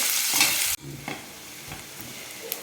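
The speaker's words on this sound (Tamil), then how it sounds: "வெங்காயத்தை நல்லா வதக்கிக்கலாம்" Sliced large onions are stirred in a hot pan of oil with cumin and mustard, giving a faint sizzle after a brief loud burst, then soft scraping stirs at intervals.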